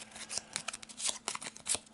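Board game cards shuffled briefly by hand, a quick run of crisp riffling flicks and taps close up and fairly quiet, with no talk.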